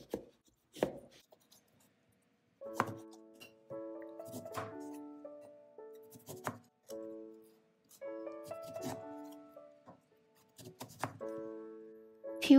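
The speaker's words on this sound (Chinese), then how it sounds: "切走柠檬的头和尾，再将它一开四" A knife cutting through a lemon on a board, trimming its ends and quartering it, several distinct close chops spaced a few seconds apart, with someone speaking Cantonese between and over the cuts.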